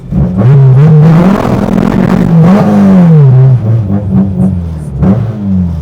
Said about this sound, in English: first pass ever with the B20